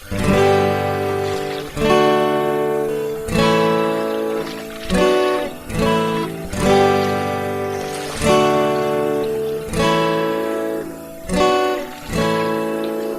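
Acoustic guitar strums through the verse of a song, steady chord strokes with regular accents at close range, playing alone.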